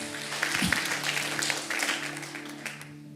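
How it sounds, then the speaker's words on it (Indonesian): Brief burst of congregational clapping during a Sunday morning church service, dense and steady over a low sustained musical tone and some faint voices. "Tepuk tangan buat Tuhan."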